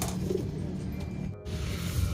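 Racing pigeons just placed in crates coo softly and steadily against a constant low background hum, close by, with no one speaking.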